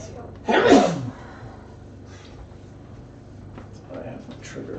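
A single sharp, loud sneeze indoors, followed by quiet room sound and soft talking.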